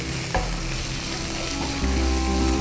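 Onions with a little salt sauté in a pan, making a loud, continuous close sizzle with occasional stirring scrapes throughout, and no voices.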